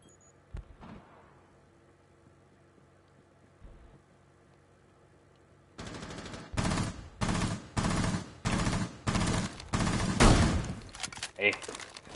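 Bursts of rapid gunfire in the game Rainbow Six Siege come after a few seconds of near quiet with faint knocks. They arrive as loud, clustered volleys of repeated shots in quick succession.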